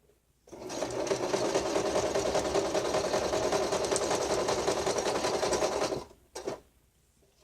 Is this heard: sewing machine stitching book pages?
yes